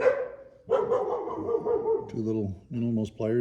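Several dogs bark in loud, repeated bursts near the end, following a stretch of someone talking about hand tools; the barks come in quick clustered volleys close to the microphone.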